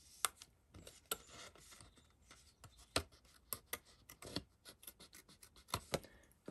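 Scissors cutting out a piece of card for a handmade spring card, heard close up as a string of sharp, irregular snips and scraping rustles of the card being turned, with no talking.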